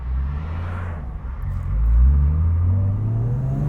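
A Subaru GC8 with a swapped 3.6-litre flat-six runs close by, a deep steady rumble that swells into a brief rev midway before settling back to a low, even drone.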